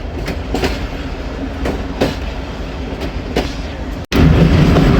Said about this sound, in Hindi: बसाल जंक्शन पहुंच रही है ट्रेन